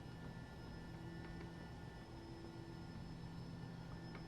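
A Bell 429 helicopter flies in X-Plane 11, its turbine and rotor blending into a steady, even cabin drone with a faint whine on top, unchanging throughout and with no talking.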